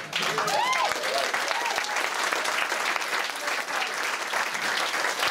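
An audience at a meeting defending the right to protest claps loudly and steadily, dense applause filling the room, with some voices and cheers briefly mixed in at the start.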